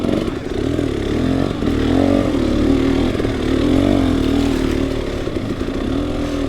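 An enduro motorcycle chugs along in first gear over a rough desert trail near Caliente, Nevada, its engine loud and close with uneven throttle swells and clattering as it crawls over obstacles.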